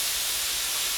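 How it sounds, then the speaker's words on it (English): Steady, loud, continuous hiss of steam venting from a pressure canner with its lid locked down, water boiling inside while tomatoes are canned; a close, unbroken breathy rush for the whole second with no talk. "water's boiling, and we're getting steam."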